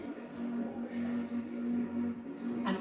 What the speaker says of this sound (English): This is the sound of the bus when it's stationary